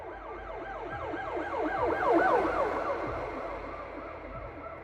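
A police car's siren wails in repeated rising and falling sweeps as it arrives, swelling louder at its peak and then easing, over a low rumble of traffic.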